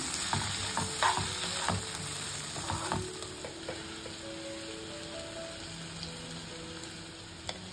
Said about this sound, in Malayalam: ഇതിലേക്ക് നമുക്ക് മുരിങ്ങക്കായ ചേർത്ത് കൊടുക്കാം നന്നായിട്ട് മിക്സ് ചെയ്ത് കൊടുക്കണം